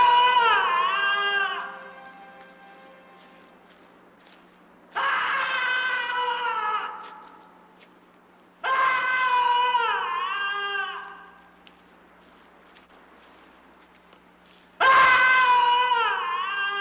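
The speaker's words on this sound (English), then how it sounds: "When provoked, the skull's angry screams reverberate for miles." Angry, wailing screams of a haunted human skull rise and fall in four long, loud, tonal bursts separated by pauses, each cry sliding and quavering like a moaning wail.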